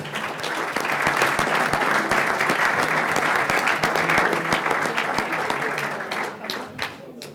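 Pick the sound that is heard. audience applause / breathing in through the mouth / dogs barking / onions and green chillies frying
audience applause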